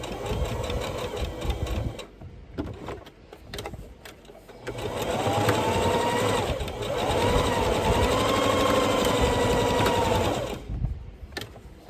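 Sewing machine back stitching a fabric face mask to lock the thread, with bursts of fast whirring and mechanical needle chatter starting and stopping, close and clear.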